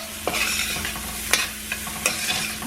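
Onions and garlic cooking on low in a pan, a steady soft sizzle broken by a few sharp scrapes and stirring clinks, with no voices.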